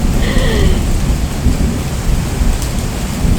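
Steady heavy rain pours down on a boat during a downpour while deep thunder rumbles continuously underneath, loud and close with no voices.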